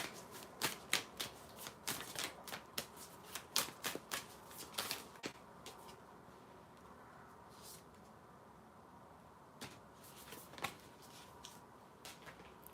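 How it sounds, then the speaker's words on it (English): Tarot cards being shuffled in quick riffling bursts, loud and close for several seconds, then a pause and a few more shuffles near the end. "Shuffling for one more card."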